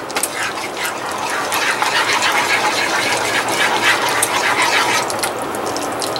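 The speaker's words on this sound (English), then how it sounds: "all those bubbles, that's the water leaving the butter" Butter melts and bubbles in a hot pan as its water cooks off, a steady, dense crackling sizzle that holds at an even level throughout with no talking.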